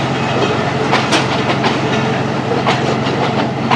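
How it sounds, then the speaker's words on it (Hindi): The Sialkot Express passenger train from Lahore to Sialkot runs on rails and picks up speed. A steady loud rumble fills the cabin, with rhythmic clickety-clack and occasional hiss, and no talking. "उसी के साथ ट्रेन की रफ्तार भी बढ़ गई है।"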